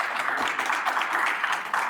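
An audience at a show applauds steadily, a dense, even wash of clapping that holds at constant loudness throughout, with faint voices mixed into it.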